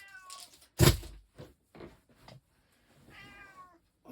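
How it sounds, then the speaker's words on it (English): Several distinct cat meows, one loud and close, with quieter mewing before and after, separated by brief pauses. "you can hear the pussycat meowing in the background"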